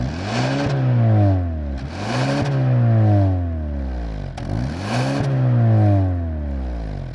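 Kia K5 GT sedan with GT1 package, a 2022 model, giving a loud, close exhaust note in three repeated rev cycles, each rising then falling, with a deep droning rumble between pulls.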